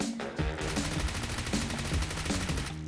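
Rapid bursts of automatic gunfire from a video game shooter, loud and dense, the shots running in quick repeated volleys across the whole stretch.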